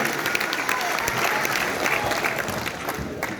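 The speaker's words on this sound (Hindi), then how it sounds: "एक बार तालियां बजाएं तो भाई" Audience clapping loudly and continuously at a poetry gathering, dense applause with a few voices murmuring in the crowd.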